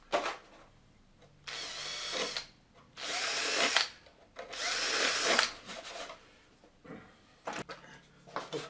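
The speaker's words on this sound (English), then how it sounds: "I'm just going to clear out the hole with a 1/8 3mm drill bit" A small power drill with a 1/8 inch (3 mm) bit clears out a hole in a model aircraft former, running in three or four short, close bursts separated by quiet gaps.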